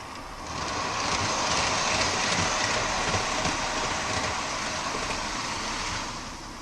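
Lionel toy train engine running on track, a continuous whirring, rattling hum that fades in, holds steady for several seconds and then eases off, with no voices.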